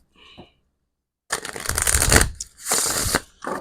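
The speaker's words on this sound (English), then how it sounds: "You need to give this a nice, good shuffle, though." A tarot card deck is shuffled by hand in several close, papery bursts of riffling and sliding, separated by short gaps, after a faint brief sound at the start.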